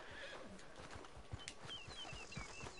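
A horse in the online game Red Dead Redemption 2 whinnies while hooves clip-clop nearby, with faint bird calls in the background of the game scene.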